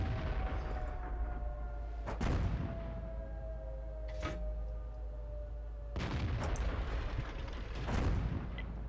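Tank guns firing rounds in the video game World of Tanks, several heavy booming shots spaced a couple of seconds apart over a low rumbling battlefield backdrop.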